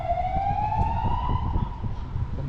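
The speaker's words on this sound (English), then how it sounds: "There's a little fire truck on its way to something." A small fire truck's siren wails along Palma de Mallorca's seafront promenade, one steady rising tone with faint harmonics, moderately close over a low rumble of traffic.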